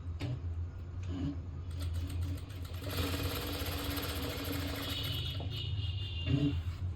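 A sewing machine runs a loose stitch along a blouse: a few soft clicks, then a steady mechanical whir and hum that carries on for several seconds before easing off, with another click near the end.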